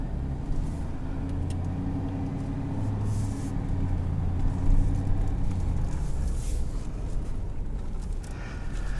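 A 2022 Ford F-350 XLT Powerstroke heavy-duty truck rumbling over bumps, with steady low road and engine noise heard from inside the cab and a few thumps and rattles as it jolts, no talking.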